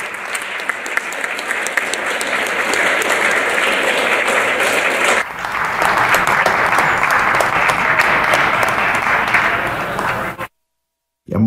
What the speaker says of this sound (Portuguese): Muito emocionante a gente ver os aplausos